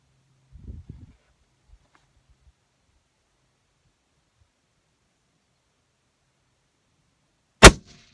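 A rifle bullet from a Cabela's Covenant 4 Tactical striking a steel target downrange, a single sharp metallic clang after several seconds of near silence and faint handling noise.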